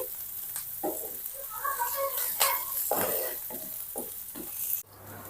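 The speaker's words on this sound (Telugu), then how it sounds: "పచ్చి కరివేపాకు ఉంటే వేయండి ఇవన్నీ కూడా మంచిగా ఫ్రై అవ్వాలి" Green chillies, curry leaves and onions fry in a pan for a pasta dish, crackling and sizzling, with irregular scrapes and taps as they are stirred. The sound stops near the end.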